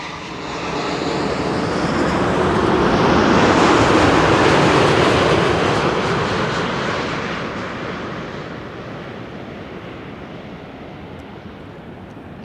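A TUI Airbus A330-300 arriving from Curaçao lands on Schiphol's runway 06, its broad engine roar swelling loud and near, peaking mid-pass and then easing into a steady rumbling fade as the jet rolls past.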